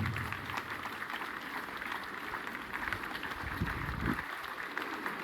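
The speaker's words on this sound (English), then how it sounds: "Big round of applause for everybody." Applause from students gathered at a school morning assembly, a steady sustained clapping from a crowd that fills the space evenly throughout.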